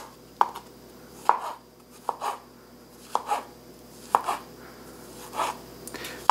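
Mushroom being chopped into smaller pieces with a knife on a cutting board, about seven crisp, evenly spaced knocks heard up close and alone in a quiet kitchen.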